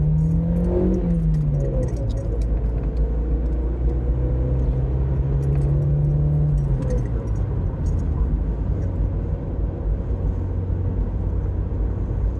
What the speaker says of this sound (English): If you can hear all this jingling